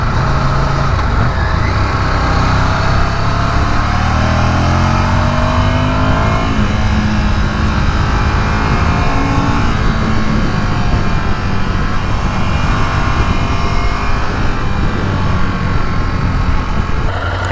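A Ducati Monster motorcycle ridden along open road, its engine droning steadily and loudly for the whole stretch, with wind rush over the top and gentle rises and falls in revs.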